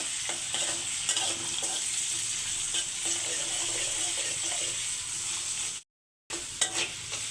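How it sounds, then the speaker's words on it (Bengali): Noodles with masala frying and being stirred in a pan at home, a continuous close sizzle with scraping stir sounds, briefly cutting out near the end. "লুডুসের মশলাটা দিয়ে তারপরে ভালো করে একটু কষাচ্ছি"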